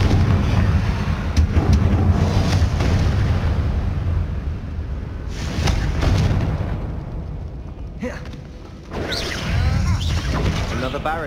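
Confringo fire spell from Hogwarts Legacy, a blasting magic explosion in a mine setting, rumbling loudly through most of the clip with a brief dip near the end before another burst, mixed with game sounds and voices.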